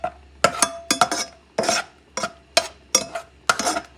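Food stirred in a cast iron pan with a little olive oil for a garlic sauce, giving about nine separate scraping, clattering strokes in an uneven rhythm, close and fairly loud, with no talk.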